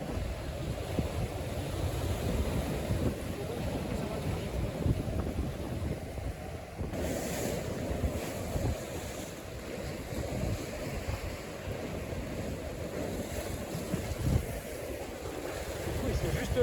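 A JPK 1010 sailboat racing fast at sea in the Fastnet race, with a constant loud rush of waves and hull spray mixed with heavy wind buffeting the microphone.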